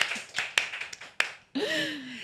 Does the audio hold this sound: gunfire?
no